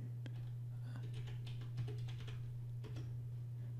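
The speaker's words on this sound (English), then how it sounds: "type in your code and hit enter." Someone types a code on a computer keyboard: a short, faint patter of scattered key taps over a steady low electrical hum.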